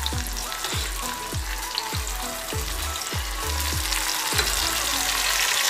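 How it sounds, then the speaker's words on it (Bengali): Ginger garlic paste sizzles in a frying pan, a continuous hiss and crackle, with a series of regular thumping knocks like a spoon striking the pan in a steady rhythm. Close and moderately loud, with no talking. "ভাজা হয়ে গেছে, এবার আমি আদা রসুনের পেস্টটা দিয়ে দিচ্ছি"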